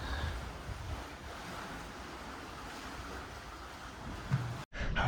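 Ocean waves wash along the Croatian coast near a crumbling torpedo factory, a steady broad surf rush mixed with wind buffeting the microphone, briefly cutting out near the end.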